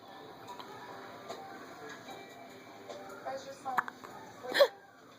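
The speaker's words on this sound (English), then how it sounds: "You got some hiccups going on there?" Hiccups sound as a few short, sharp bursts late in the clip, the loudest near the end, amid a quiet room background.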